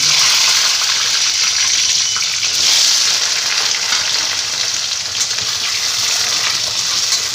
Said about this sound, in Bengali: তারপর কেটে রাখা আলুগুলো আমি দিয়ে দেব এই যে ডুমো ডুমো করে কেটে রেখেছি আলুগুলো দিয়ে দেব আর কাঁচা লঙ্কা চেরা দিয়ে দিচ্ছি